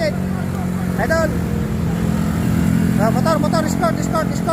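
Motorcycle escort engines drone steadily through a hill-climb stage of the Tour de Pangasinan bicycle race on Mount Balungao, with shouting and cheering voices over the constant rumble.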